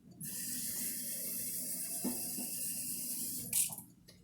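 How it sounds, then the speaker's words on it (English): Water running steadily into a pot of apples being cooked down for homemade applesauce, about a cup poured in a continuous hissing stream for roughly three seconds, close and fairly quiet, with a brief clink near the end. "I'm going to add about a cup of water."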